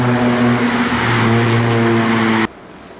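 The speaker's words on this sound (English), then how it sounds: "And still some traffic." A motor vehicle roars past close by on a wide two-lane-each-way road in Bali, a loud steady engine hum that cuts off abruptly near the end, leaving faint background traffic.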